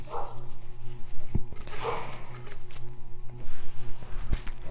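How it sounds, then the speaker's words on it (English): A small dog barks indoors at nothing in particular, several sharp yaps and whimpers spread across the moment, fairly close, over a steady low hum in a quiet room. "someone's barking"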